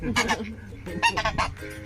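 A few honking goose calls, loud and close, in quick bursts over background noise.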